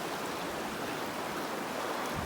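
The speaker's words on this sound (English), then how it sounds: "And look at the flow of that water." A stream flows beneath a trail bridge in the Colorado mountains, a steady, even rush of water heard at moderate distance with no voices.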